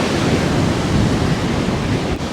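Sea waves roll in at Uppada beach, a village shore where erosion has washed away houses. A loud, continuous roar of surf mixes with wind buffeting the microphone, and no one speaks.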